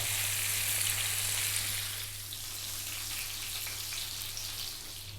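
Carp fish pieces being sealed in a hot pan for a Bengali river-style curry, a loud, continuous sizzling hiss over a low steady hum, with no talking.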